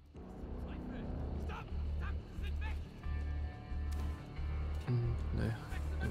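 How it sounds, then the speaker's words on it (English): A dog barks repeatedly in a War Mongrels stealth game scene, short game-world barks mixed into a steady low engine-like hum and ambient effects, with someone talking over the top. "I've got a dog."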